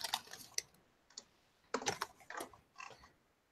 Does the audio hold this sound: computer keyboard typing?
yes